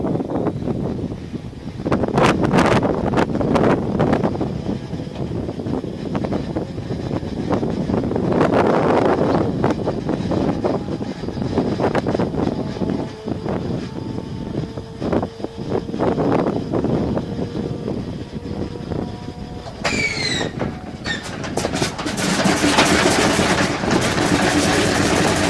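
An Antonov aircraft engine starts up and settles into a steady, rough low roar mixed with wind buffeting on the microphone, rising in intensity toward the end.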